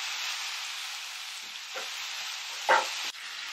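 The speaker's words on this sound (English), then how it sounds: "we're just frying the bacon on a hot skillet here" Bacon frying in a hot skillet gives a steady, close sizzling hiss throughout, with a few brief scrapes and knocks as it is stirred.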